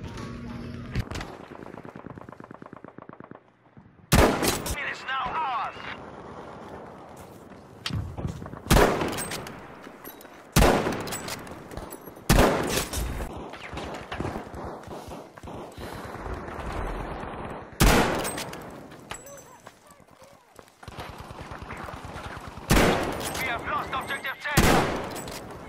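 Gunfire in the shooter game Battlefield V: repeated loud bursts of automatic fire and single shots in uneven clusters, with a voice talking in the quieter gaps between them.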